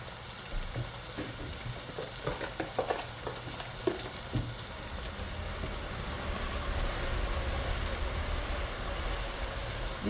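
Sierra Leonean jollof rice cooks in a pot with a soft, continuous sizzle and bubbling, plus a few clinks of stirring early on. It stays fairly quiet and close, and no one speaks.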